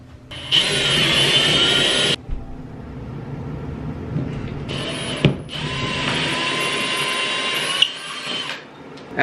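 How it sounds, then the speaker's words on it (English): A power drill whines in several bursts, drilling anchor holes in a wall, one short run then longer sustained drilling, close and loud with brief pauses between. "I'm going to mark 2 holes to where I'm going to drill and set my anchors"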